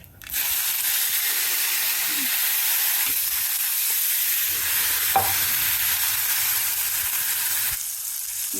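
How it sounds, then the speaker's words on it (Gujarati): Potato masala tempering with mustard seeds, urad dal and curry leaves sizzling in hot oil, a steady close frying hiss that runs throughout with a few small pops and stirring clatter. "તો જો બટેટાનો મસાલો વઘારી લઈએ"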